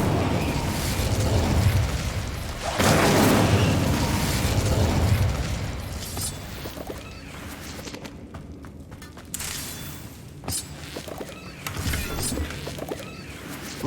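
Fire spell cast in the video game Hogwarts Legacy, a loud whooshing burst and roaring flame that fades into quieter game ambience with a few later impacts.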